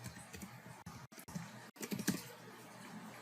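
A computer keyboard clacks as a short note is typed, a quick run of light, close keystrokes at uneven spacing with brief pauses between them, in a quiet room with no speech.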